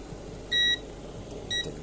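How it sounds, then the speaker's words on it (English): A multimeter in diode mode gives two short electronic beeps, the first longer, while checking a laptop motherboard coil for a short; the tones are clear and close, with a quiet pause between them. "As you can hear my multimeter. I'm using the diode mode."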